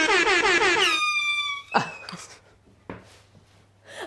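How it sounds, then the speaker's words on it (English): A loud, blaring horn with stacked harmonics opens the clip and holds for about a second, followed by a few thumps and rustles at close range. "I need to get an air horn."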